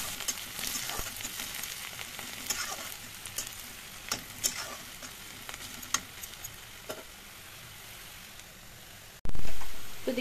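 Onions fry in a pan until brown, a continuous close crackling sizzle with scattered pops and stirring scrapes, ending in a sudden louder burst of sizzle near the end.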